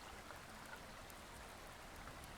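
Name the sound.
watering plants in Subsistence video game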